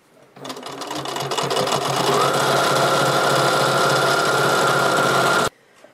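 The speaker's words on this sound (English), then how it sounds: "We just want to make sure it lines up with the edge of the quilt, and we're just going to sew." A sewing machine stitches binding onto the edge of a quilt, running steadily and loudly for about five seconds after a brief start-up, then stopping abruptly.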